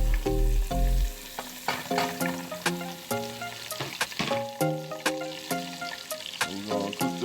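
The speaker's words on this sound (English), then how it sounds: "I'm finna drop in these onions." Onions dropped into melted butter for loaded potato soup, frying with a loud bubbling sizzle and frequent clattering utensil knocks and scrapes as they are stirred around the pot.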